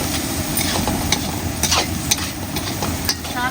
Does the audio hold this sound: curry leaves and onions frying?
yes